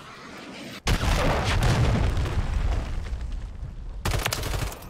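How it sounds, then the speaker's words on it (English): A cruise missile explosion in Call of Duty, a sudden loud blast followed by a long rumbling roar, then a second sharp burst near the end. "friendly cruise missile deployed"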